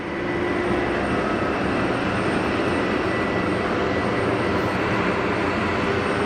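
An Airbus A220 rolling along the runway at Geneva Airport, a steady loud engine roar that holds level throughout with no voices.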